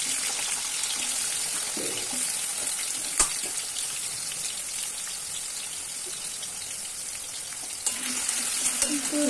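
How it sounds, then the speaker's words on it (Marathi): Potatoes frying in oil for a cauliflower and potato dish, a dense, constant crackling sizzle close by, with a few sharp knocks of a utensil against the pan. "लास्ट सगळे बटाटे टाकून फ्राय करून घेतले"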